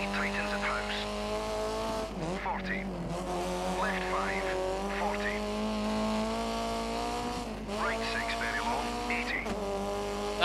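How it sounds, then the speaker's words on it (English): Mini Cooper engine in the rally game Dirt 3, revving hard with a steady buzzing drone that climbs and drops through gear changes, broken by repeated tyre squeals in the corners, loud and close with someone talking over it. "That engine sounds amazing"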